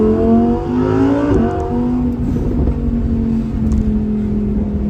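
A Lamborghini Huracan Evo Spyder drops a gear and accelerates, its engine note rising loud and close in a climbing howl before settling into a sustained high drone.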